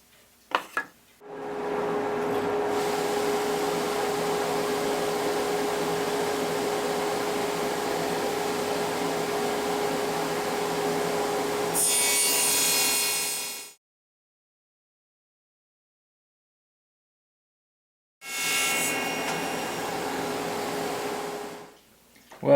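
A saw cuts small wood pieces against a miter gauge setting: a long steady whine of the running blade with a sharper cutting burst near its end, then silence before a second shorter run starts.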